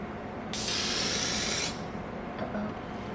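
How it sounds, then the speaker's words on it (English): A spray bottle of cleaner sprays onto a micro towel, one sustained hissing burst of about a second, close and clear over quiet room tone. "Next, spray the towel."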